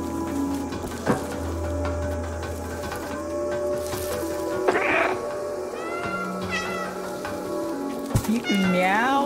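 Cat meowing in the Stray video game, several rising meows near the end over steady rain ambience and game background sounds, with a voice talking briefly.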